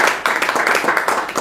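A church congregation clapping, rapid brisk claps in a dense rhythmic patter, loud and close, over a short stretch.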